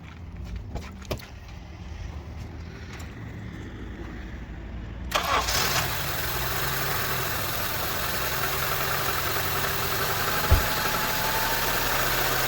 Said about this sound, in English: we're gonna start the engine now because it was not starting at all